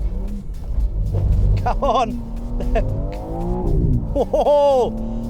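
A BMW M3 CS engine revs hard nearby, rising and dropping in pitch with a couple of sharp bursts, and a voice speaks briefly over it.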